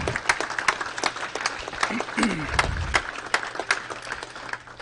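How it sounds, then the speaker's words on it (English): Scattered, moderately sparse applause from a small audience at a Limousin cattle genetics event, individual claps distinct and uneven, with a brief voice heard midway. "Give the NALF staff a round of applause, if you would, for all that they do"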